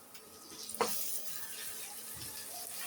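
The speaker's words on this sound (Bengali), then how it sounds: "প্রথমে আমি কড়াইয়ে তেল দিয়েছি, সেখানে পেঁয়াজ কুচি দিয়েছি, সেটা বেরেস্তা করব" Chopped onion frying in oil in a wok, a gentle sizzle with a brief scrape of stirring near the start, quiet and steady with no speech.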